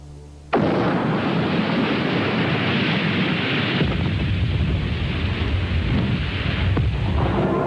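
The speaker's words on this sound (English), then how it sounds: "the depth-activated fuse triggers the explosion" A sudden deep boom of an underwater depth-fused bomb erupts after a brief quiet, followed by a long, heavy rumbling roar that churns on without fading.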